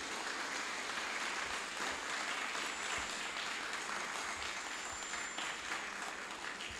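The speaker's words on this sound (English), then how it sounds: "Come on, give them a round of applause." A crowd at a Jamaica Combined Cadet Force special service claps steadily through a sustained round of applause, a dense even wash heard at a distance and fairly faint.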